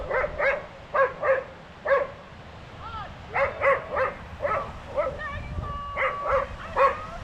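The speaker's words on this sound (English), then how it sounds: "There's a dog digging up a body." A dog barks repeatedly in short pairs and bursts from a moderate distance, echoing slightly, with brief pauses between volleys and a faint whine or squeak partway through.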